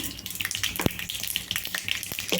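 Mustard seeds, chana dal and urad dal crackle in a small amount of hot oil, a steady close sizzle with scattered pops and sharp clicks of seeds bursting.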